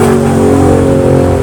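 A Honda NSR 250R motorcycle engine runs steadily and loudly close by, a continuous two-stroke drone with a strong harmonic hum and no clear rise in pitch.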